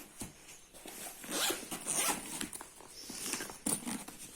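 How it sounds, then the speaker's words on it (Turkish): A zipper on a bag is pulled open in several short, quiet rasping strokes, close and alone, with small rustles between the pulls. "Şöyle arkadaşlar diğer çantamızı açalım."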